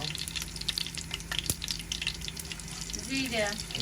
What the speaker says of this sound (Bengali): জিরা দেওয়া হয়েছে তেলের মধ্যে